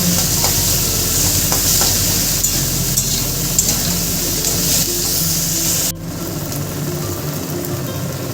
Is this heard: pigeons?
no